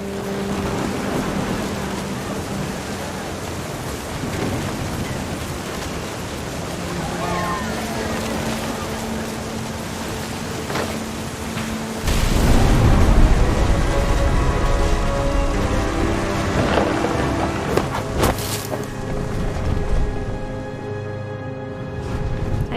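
Stormy weather in the video game What Remains of Edith Finch: steady rain hisses throughout, with a heavier rumbling surge around the middle that fits close thunder, and a voice speaks over parts of it.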